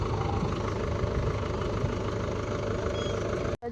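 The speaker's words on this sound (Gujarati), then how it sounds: "જીરું આવે અહીંયા ટ્રેક્ટર આવ્યું છે" A farm tractor engine idles steadily during cumin sowing, a loud, close, continuous low rumble that cuts off abruptly near the end.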